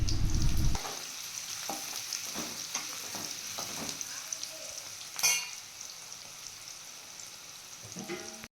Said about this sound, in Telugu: సన్నగా కట్ చేసుకున్న ఆనియన్స్ని బాగా ఫ్రై చేసుకోవాలి